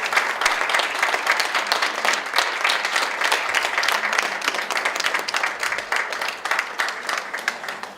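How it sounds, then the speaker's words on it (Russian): An audience at an exhibition opening claps steadily in dense, even applause that holds at moderate level throughout, with no voices over it. "Эти аплодисменты вам."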